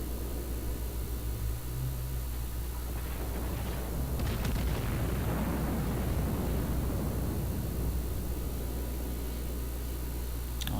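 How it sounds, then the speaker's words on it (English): Naval gunfire from the battleship Bayern in World of Warships, a dense rumbling barrage of heavy booms that swells midway and rolls on as a continuous low roar, with no talking. "We've just had contact with the enemy, and we are firing, of course"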